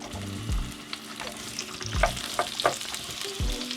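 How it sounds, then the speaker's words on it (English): Onions hit hot vegetable oil over high heat in a narrowboat kitchen, a steady close sizzle broken by a few clattering stirs and pan knocks, with no speech. "High heat, ghee would be preferable, but I haven't got any, so I'm using vegetable oil, quite a lot"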